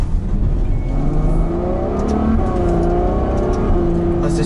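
A Ferrari GTC4 Lusso's engine pulls hard under acceleration on the road, a loud, continuous rising roar heard from inside, with faint talk underneath.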